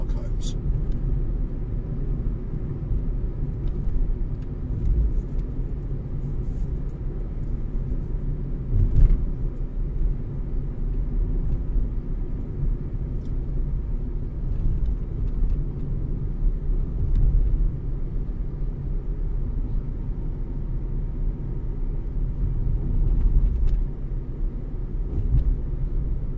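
A car drives through the roads from Tala toward Paphos town centre via Emba, on pothole-strewn tarmac. A steady low engine and road rumble runs throughout, with occasional thumps and bumps rising briefly above the continuous drone.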